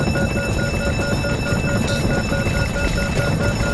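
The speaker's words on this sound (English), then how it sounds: "The crew pulled the handle of engine number 2 and the fire alarm stopped." An engine fire alarm rings continuously in a Concorde cockpit, a steady electronic tone held at even loudness throughout, with no pauses and no talk over it.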